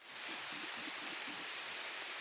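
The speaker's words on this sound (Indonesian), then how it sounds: "Diguyur hujan guys." Heavy rain pours steadily outdoors in the wild during a hunting trip, as a dense, constant hiss with no break.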